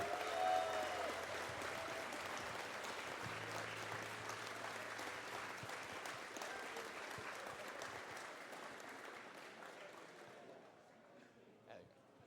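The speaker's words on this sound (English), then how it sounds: "give them an applause" Sustained applause from an audience at a gaming tournament grand final prize ceremony, dense clapping that continues steadily then gradually thins out toward the end.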